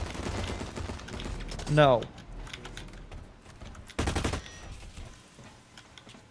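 Gunfire in the online shooter Blacklight Retribution: short bursts of shots in a busy match, a loud one near the start and another run later, mixed with clattering game noise and voices talking over it.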